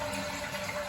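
A household toilet being flushed and its tank draining, with a steady, continuous rush of water running close by for the whole moment and no voices over it.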